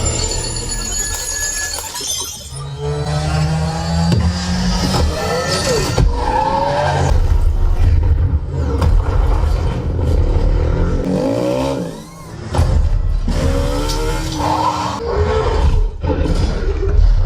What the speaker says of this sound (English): this is the race scene from Ready Player One.